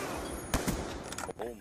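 Video game gunfire while spawn killing: a quick burst of sharp rapid shots over about a second and a half, mixed under a person talking.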